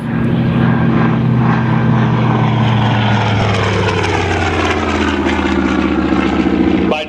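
A WWII Grumman-built propeller warplane flies past at an airshow, its steady, loud engine drone holding throughout with a slowly shifting pitch as it passes, with no talk.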